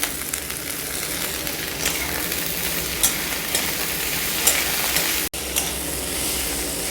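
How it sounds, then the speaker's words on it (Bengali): Chopped potatoes frying in a pan with onion and garlic, a loud, even sizzle close by with occasional stirring scrapes and one momentary drop-out. "আলুটা আমি প্রথমে ভালোভাবে ভেজে নেব।"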